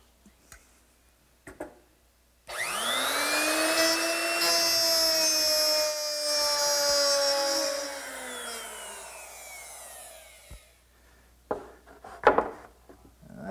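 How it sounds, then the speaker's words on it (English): A router fitted with a half-inch mortising bit plows grooves along a clamped straight edge for a slant top writing desk, a loud sustained high whine with falling pitch as the bit cuts, framed by brief clicks and handling knocks before and after. "using a nice straight edge, which is clamped in place so that the router can ride against it, I'll plow out each groove using a half-inch mortising bit"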